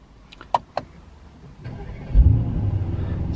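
A 2018 Mercedes-AMG E63 in comfort mode: a few interior clicks and chimes, then the engine cranks and fires into a deep, steady idle rumble, heard close with no talking.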